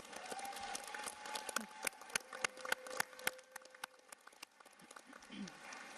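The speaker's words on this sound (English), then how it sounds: "please join me in lifting up all the women chiefs, and it's so great to see, so give them a round of applause" Scattered applause from an assembly of chiefs honoring women chiefs, with sharp individual claps over a thin crowd, and faint voices and murmur mixed in.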